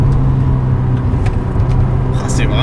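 A Porsche 944 Turbo on the road, its steady engine drone and tire rumble filling the cabin, loud and close, with a person talking over it.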